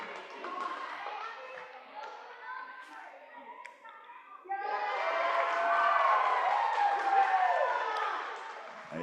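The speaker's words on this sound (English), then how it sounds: "People jumping up and down and applauding." Audience at a robotics challenge clapping and cheering, a moderate burst that swells after a few seconds into louder, sustained applause with voices mixed in.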